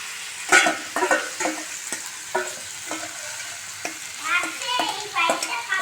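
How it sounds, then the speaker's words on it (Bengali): Marinated mutton added to a pan of fried onions, with a brisk sizzle and frying hiss under repeated scraping and stirring strokes, close and fairly loud. "পেঁয়াজ ভাজা হয়ে গেছে, এবার মেখে রাখা মাংসটা দিয়ে দিচ্ছি"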